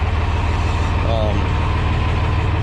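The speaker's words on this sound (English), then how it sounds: "I'm gonna go ahead and shut the tractor off" A John Deere 4010 tractor engine idles steadily with a low, even drone, loud and close throughout, and a faint brief tonal squeak in the middle.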